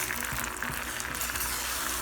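Plant-based JUST Egg liquid egg replacer scrambles in a hot pan over medium-high heat, giving a constant bright frying hiss with light stirring scrapes and no voices.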